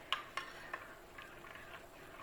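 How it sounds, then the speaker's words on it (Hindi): A spoon stirs spices into yogurt for mutton rogan josh, giving a few light, faint clinks and soft scraping strokes at the start, then quieter mixing. "हमने अच्छे से चम्मच से इसे मिक्स कर लिया सारे मसाले"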